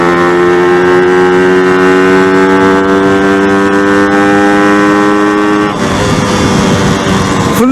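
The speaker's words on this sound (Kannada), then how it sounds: "ಸೂಪರ್ ಬೈಕ್ ಸೌಂಡ್ ಬಿಟ್ರೆ RX ಸೌಂಡ್ಗಳು ಕೇಳ್ಬಿಟ್ರೆ ಗೂಸ್ ಬಂಪ್ಸ್ ಬಂದ್ಬಿಡುತ್ತೆ" A Yamaha RXZ motorcycle engine holds a loud, steady droning tone close by for several seconds, then its pitch drops and turns rougher near the end; no one speaks.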